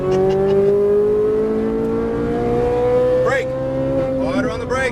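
A Ferrari 458 Italia engine under throttle on a race track, its steady tone rising smoothly in pitch, with tire noise and a voice talking over it.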